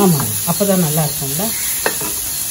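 Onions sauté and sizzle in a pan, a steady hiss of frying beneath a voice talking close by, with a faint stirring scrape partway through.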